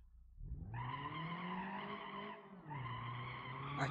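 Car tires skid and squeal while drifting in the video game BeamNG.drive, two sustained tonal screeches with a brief dip between them over low engine rumble, no talking.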